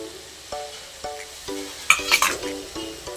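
Crushed tomatoes and onions hit a hot pan for palak paneer moong dal, sizzling close by with regular spoon-against-pot clinks and a brief, louder burst of frying partway through.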